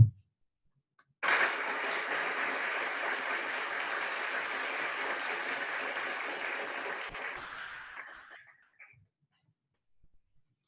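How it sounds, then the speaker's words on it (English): At a school band banquet, an audience gives a round of applause that starts abruptly after a brief silence, stays even for several seconds, then fades out. "Let's give a round of applause for Mr. Griffiths."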